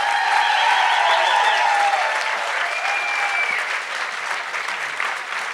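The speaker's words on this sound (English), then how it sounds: "Can we get a round of applause" A live audience in Los Angeles gives a guest, Dr. Kristi Funk, dense, sustained applause that stays loud and close throughout, with faint voices mixed in.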